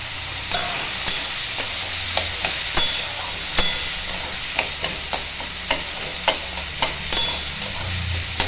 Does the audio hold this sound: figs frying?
yes